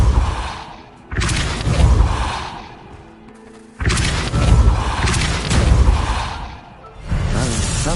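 Spell blasts from Hogwarts Legacy: loud booming whooshes with thudding impacts, arriving in several heavy bursts separated by brief quieter gaps, with no talking.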